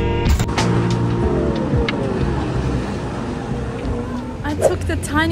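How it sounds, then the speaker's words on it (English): A small city bus travels through Tokyo, its engine and road noise forming a steady low rumble inside the cabin, with voices heard over it. "it was the tiny bus"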